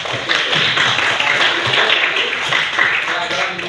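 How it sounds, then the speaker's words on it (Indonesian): A classroom of students clapping their hands together, a dense run of overlapping claps at a steady rhythm, close and loud, with voices mixed in. "Tepuk tangan dulu."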